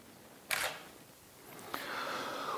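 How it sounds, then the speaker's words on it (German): Canon or Nikon DSLR shutter firing during automated autofocus calibration test shots, two sharp separate clicks about a second apart, close and clear against a quiet room. "Und jetzt läuft der, macht eine Reihe von Testbildern."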